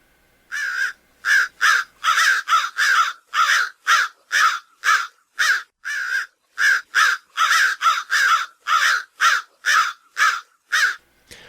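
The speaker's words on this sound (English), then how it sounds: "everyone knows the sound of a crow. It's more of a cawing noise." A crow caws repeatedly in steady bursts, loud and close, about twenty harsh calls in a row with short gaps between them.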